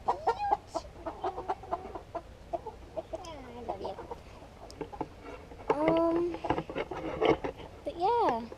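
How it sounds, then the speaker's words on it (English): Chickens clucking and squawking nearby in uneven bursts in a Sonoran Desert garden, with people talking quietly in the background. "that's our chickens again."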